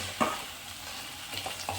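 Dragon chicken sauce of soy sauce and other sauces being stirred in a hot pan, giving quiet, soft sizzling with a few scraping strokes of the spoon near the start and end.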